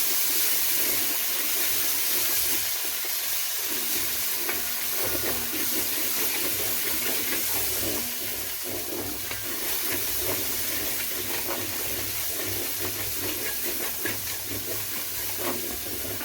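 Spice masala for shahi matar paneer roasts in oil, giving a steady, loud, close sizzling hiss with faint crackle throughout and no voices.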